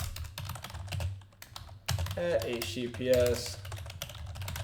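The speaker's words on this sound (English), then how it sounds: "I'm not typing good today" Rapid, uneven keystrokes on a computer keyboard clatter steadily throughout, mixed with someone talking over the typing.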